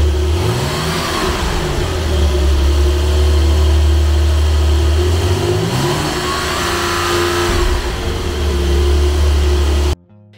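A Porsche 911 Turbo S, rated at 650 hp, accelerates hard up a mountain road, its engine climbing loudly through gear changes with rising and falling pitch sweeps, close and continuous before cutting off abruptly at the end.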